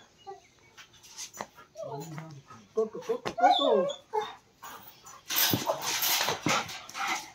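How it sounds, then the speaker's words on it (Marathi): Two dogs playing roughly together, trading whimpers, yips and short growly barks in quick bursts up close, with people talking and excited voices breaking in over the scuffle toward the end. "2 डॉग कशी मस्ती करतात"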